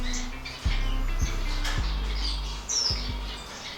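Caged birds in a breeding room chirp and tweet in brief scattered calls, while sharp knocks and clatter sound close by.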